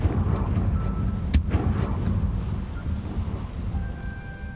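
Confringo fire spell explosion from Hogwarts Legacy: a dense, loud low rumble with a sharp crack just past the first second, then a crackling, fiery roar gradually settling.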